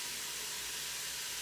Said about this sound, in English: So we're just going to saute that just for a few minutes.